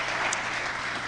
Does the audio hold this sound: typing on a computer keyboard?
no